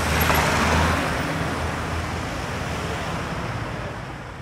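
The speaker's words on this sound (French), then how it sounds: "le passage d'une voiture en stéréo" A car passes by in a stereo recording, a loud broad roar of tires and engine that peaks early and then slowly fades as the vehicle recedes.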